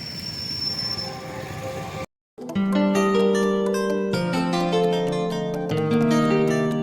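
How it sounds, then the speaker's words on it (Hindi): A train at a railway station in Pakistan rumbles and clatters past close by, loud and continuous, with squealing wheels and rhythmic metallic clanks after a brief silent break. "और अभी एक ट्रेन आई हुई है"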